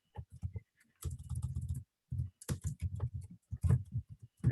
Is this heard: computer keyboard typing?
yes